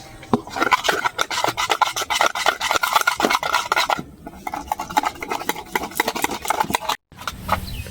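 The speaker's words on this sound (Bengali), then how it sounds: "এই বেসনটা আর এই চাল গুঁড়িটা আমি ভালো করে এবার ফাটিয়ে নেব।" Gram flour and rice flour batter being beaten vigorously by hand, a fast steady run of wet scraping and slapping strokes against the bowl, close and continuous with one brief pause, no talking.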